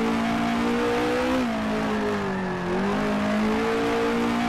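A 1966 racing car engine in Grand Prix Legends, at the Warwick Farm Tasman Series round, droning loudly and close, its pitch stepping down twice as it downshifts into a hairpin.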